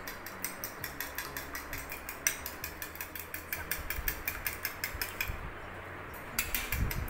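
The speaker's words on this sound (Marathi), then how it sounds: "हे जे वेगळं अंड आहे हे सुद्धा आपण बीट करून घेऊया" An egg being beaten for an egg wash on scones, a rapid, regular clicking and tapping of a whisk or fork against a bowl, close and steady, with a brief pause near the end.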